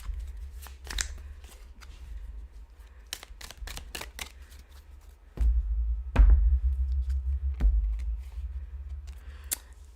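Tarot cards are shuffled and pulled by hand, giving sharp slapping card riffles and snaps early on, then a louder low rumbling handling passage near the end, all close and without talk.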